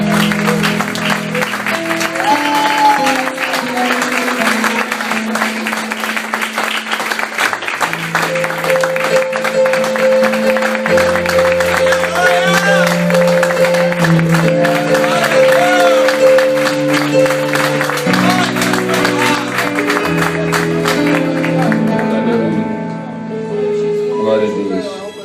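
A church congregation claps along in praise over sustained music with a tonal melody, steady rhythmic clapping blending with the band throughout and voices mixed in.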